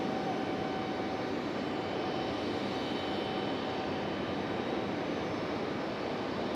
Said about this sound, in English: Early rotation for the FedEx.